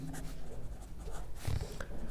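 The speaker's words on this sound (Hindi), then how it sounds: "तो यहाँ पे लिखते हैं" A pen writes by hand on paper during a Class 10 math lesson, giving a close, continuous scratchy scribbling with small strokes and taps over a couple of seconds, and no speech.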